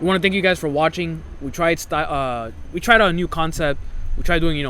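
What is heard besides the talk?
No everyday noise stands out behind the speech.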